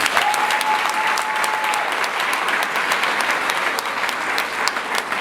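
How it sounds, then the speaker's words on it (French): An audience at an esthetics certificate ceremony applauds in sustained, loud, even clapping that fills the whole stretch without pause. "Je vous demande de l'applaudir."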